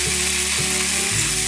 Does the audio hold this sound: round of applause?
no